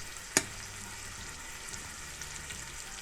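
Country-style beef ribs browning in the hot pot of an Instant Pot, giving a steady low sizzle with one sharp clatter near the start, no one speaking.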